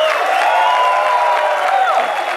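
Sparse, polite applause from a conference audience for a contestant, a steady wash of crowd noise and light clapping with a few faint whistle-like tones, loud and continuous.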